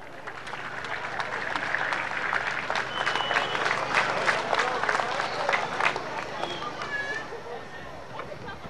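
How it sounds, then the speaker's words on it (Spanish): Sustained crowd applause rises and swells at an outdoor event in Trópico, Cochabamba, welcoming OAS Secretary General Luis Almagro, with voices and cheering mixed into the dense clapping. "lo recibimos con un fuerte aplauso"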